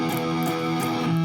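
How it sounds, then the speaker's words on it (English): A distorted electric guitar power chord, a thick buzzing tone picked in a few quick repeated strokes, steady and moderately loud. "So it should that power chord should sound like this."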